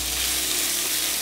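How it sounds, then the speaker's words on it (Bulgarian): Bite-sized pieces of pork neck sizzle steadily in a hot frying pan, a close, continuous crackling fry with no voices over it. "Тигана вече ми е сгорещен, така че си добавям свинското вратле."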